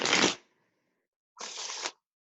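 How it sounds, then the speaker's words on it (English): A deck of playing cards is shuffled quickly by hand in two brief bursts: a sharp riffle followed by a pause, then a second, slightly softer riffle, close and crisp with no talk. "just shuffle it really quickly."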